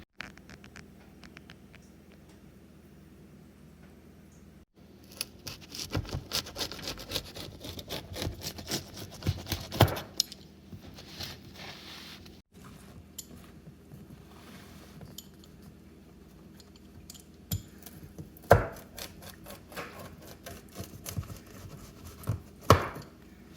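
A pizza cutter or knife slicing through a whole baked pizza pie, giving repeated crunchy rasping strokes and chopping taps against a wooden board, close and moderately loud, with quieter pauses between bursts.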